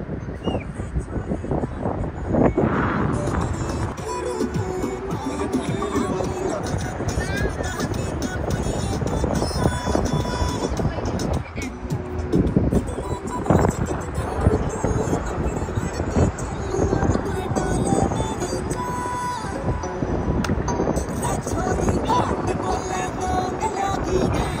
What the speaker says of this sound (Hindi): ये हेलीपैड है जिसमें भी भाई बहुत ज़्यादा तेज हवा चल रही है मस्त